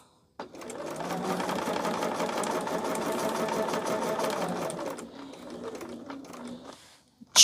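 A home sewing machine with a new needle stitches a pinned, nested quilt seam for a pumpkin block, a steady close whir for several seconds that slows and loosens near the end, with no talking.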